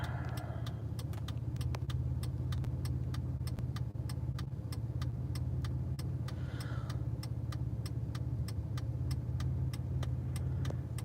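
Car being driven, a steady mid-pitched engine hum and road rumble with rapid rhythmic ticking clicks running through it, constant and close, with no voices.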